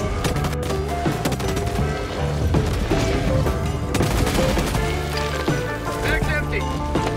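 Rapid automatic gunfire in Helldivers 2 as a player shoots at a tentacled monster, dense crackling bursts filling the scene with game noise underneath.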